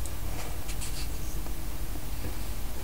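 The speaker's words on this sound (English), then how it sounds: "from the edge mark a line 1/2 inch in" A pen marks a line half an inch in from the edge of a piece for a glitter glue storage project, giving a soft, continuous scratching stroke close up over steady background noise.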